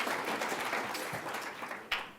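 An audience applauds at the IBP Awards 2013 ceremony, a brief, fairly faint patter of many hands clapping together, heard from a distance.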